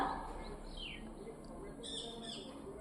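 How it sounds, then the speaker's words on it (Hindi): A parrot gives a few short, high chirping calls, faint and somewhat distant against a quiet indoor background, with two brief bursts spaced about a second apart. "फिर से किसी तोते ने चे चे चे किया वहीं पे"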